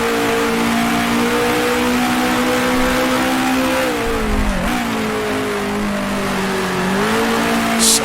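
Loud, steady high-revving 1966 Formula One engine in the Grand Prix Legends racing sim after a downshift to fourth, pitch holding then sagging and recovering through a corner, alone without talk.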